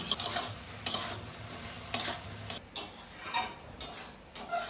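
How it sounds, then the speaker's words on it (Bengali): Spinach frying in a pan as a utensil stirs it, giving soft sizzling under repeated scraping and clinking strokes at a steady, unhurried pace, close and fairly quiet. "পালং শাকও ভাজা ভাজা হয়ে আসছে পালং শাক থেকে অনেকটাই জল বেরিয়ে আসছে"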